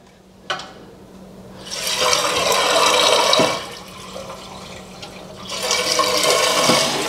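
An American Standard Champion toilet flushes: a sudden clunk, then a loud rushing drain, followed by the quieter hiss and trickle of the tank refilling. Nobody speaks.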